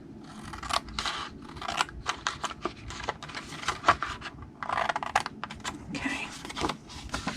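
Paper being snipped with scissors along score lines, a rapid series of crisp cuts in bursts with short pauses between, fairly close and clear.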